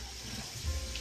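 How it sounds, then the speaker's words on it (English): Tap water gushes steadily into a cooking pot, a close, constant rushing stream that swells slightly toward the end, with no talking over it. "I'm gonna fill this pot up like kind of half."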